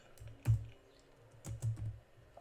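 A few separate computer keyboard keystrokes come through at moderate volume, one near the start and a small cluster later, over a quiet room background while someone fills in an employee record change request in an HR system.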